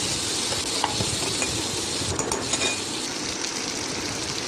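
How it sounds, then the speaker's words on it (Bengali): Onions frying with prawns in a hot pan, a steady loud sizzle running throughout with light stirring scrapes and an occasional utensil clink. "চিংড়ির সাথে পেঁয়াজগুলো ভালো করে ভেজে নেব।"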